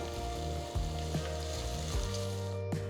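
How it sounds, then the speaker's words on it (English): Ginger garlic paste sautéing in a pressure cooker for coconut milk rice, a continuous close sizzle with a low hum and a few brief clinks of a spoon, no voices. "add 1 teaspoon of freshly crushed ginger garlic paste and saute well until the raw smell completely disappears"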